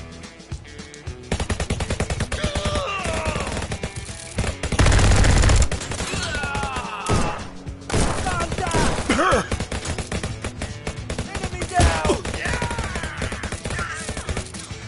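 Twin .45 caliber revolvers fired in the Bulletproof VR game on PSVR: dense, loud volleys of rapid gunshots pile up almost without pause, with a heavier burst near the middle.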